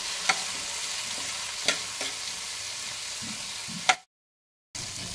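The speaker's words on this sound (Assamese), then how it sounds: "জিৰা পাউডাৰ দিলোঁ, অকণমান ৰেড চিলি পাউডাৰ দিছোঁ, অকণমান ধনিয়া পাউডাৰ দিছোঁ। এইখিনিতে অকণ লৰাই দিওঁ।" Cumin, chili and coriander powder being stirred in a hot frying pan while cooking a tangy chutney: close, continuous sizzling with a few sharp scrapes of the spoon against the pan, then a brief cut to silence before the frying resumes.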